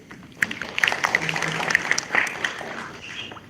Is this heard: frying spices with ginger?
no